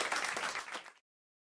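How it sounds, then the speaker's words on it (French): A French TV studio audience claps in a short, loud burst that cuts off abruptly after about a second. "on vous applaudit"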